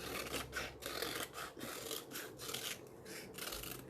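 Paper edges being rasped with a pedicure file to distress them for decoupage, a rapid series of short scratchy strokes, close and faint, with no voices.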